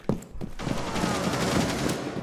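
Rapid gunfire in Rainbow Six Siege from the operator Ela, with a couple of sharp shots followed by a dense burst of automatic fire that rattles on steadily and up close.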